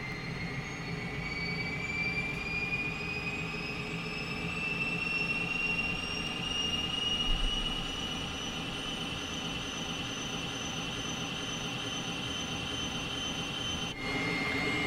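A Cessna T-37 jet trainer's engine spooling up in a flight simulator, a steady whine rising slowly in pitch over a constant roaring bed, heard alone and fairly loud throughout.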